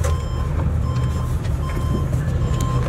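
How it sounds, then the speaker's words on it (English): A tow truck pulls up for a broken-down Jeep, its steady reversing beeps repeating over a loud diesel engine rumble, close by and continuous. "Tow truck is here."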